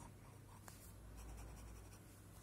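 A Pineider Avatar UR Abalone Green fountain pen nib writing on Rhodia paper, giving faint, close scratchy strokes in short bursts over a quiet background hum.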